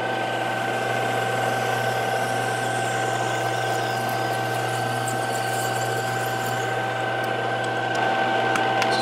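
A mill lathe bores out a swing arm bushing for a Mini Indian, giving a steady, loud mechanical hum with strong tonal whine and constant motor drone, unbroken throughout.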